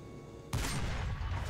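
A 25 millimeter cannon fires from a French tank in the War Thunder video game: a single sharp, loud blast that bursts in suddenly and rumbles on briefly, with no voices.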